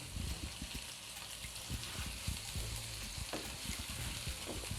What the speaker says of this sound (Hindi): पेस्ट को भी अब इसके साथ भून लेंगे